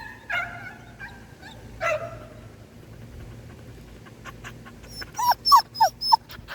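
A dog whines in several high, wavering cries, a few at the start and a quicker run of short whimpers near the end, close by with no talking.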